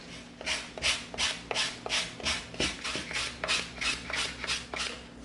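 An 80-grit sanding stick scrapes across EVA foam in about ten steady back-and-forth strokes, each a close, coarse rasp with a brief pause between.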